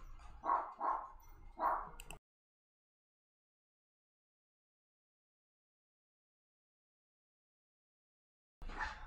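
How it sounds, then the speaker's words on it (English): Dogs outside give three quick barks in close succession, then everything drops to silence for several seconds before a brief sound returns at the end. "The dogs."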